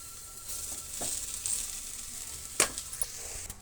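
Rice stirred into gobi masala in a hot pan makes a close, steady sizzle, with scraping stir strokes and a few sharp clinks of a spoon against the pan. No one speaks.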